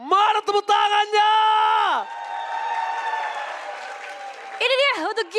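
Esports arena audience at an MPL Indonesia Mobile Legends match roars, yells and whoops in loud bursts, with a sustained wash of applause and cheering between the loudest shouts.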